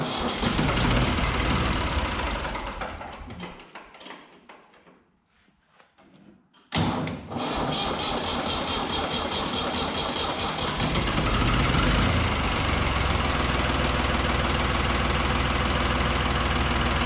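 A Ford 3000 tractor engine cranks and fires, with loud, dense diesel chatter. It briefly drops away to near quiet, then restarts sharply and settles into a steady, loud, knocking idle.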